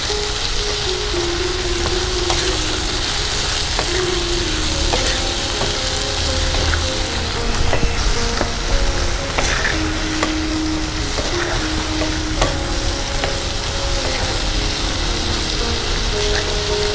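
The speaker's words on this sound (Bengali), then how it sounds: "এবার টুকরো করে কেটে নেওয়া শশাগুলো দিয়ে দিচ্ছি।" Cut cucumber pieces and green peas fry in ghee with radhuni seasoning in a kadai, a loud continuous sizzle with repeated scraping stirs and clinks throughout.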